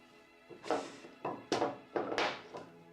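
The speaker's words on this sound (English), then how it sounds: "So now let's hit this glass with hammer." A hammer knocks against the glass of an old door being restored, five dull, fairly close thunks spaced about half a second apart, with no shattering.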